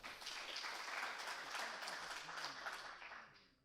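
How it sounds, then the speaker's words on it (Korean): An audience at a Korean technical conference session on deep-learning anomaly detection applauds to welcome a presenter, a faint, distant burst of clapping that swells and then fades out. "박수로 맞이해 주시기 바랍니다"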